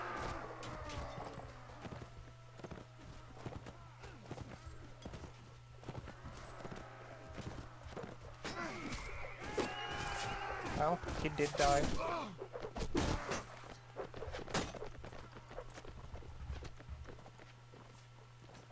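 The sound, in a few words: horse in the video game Mount & Blade: Warband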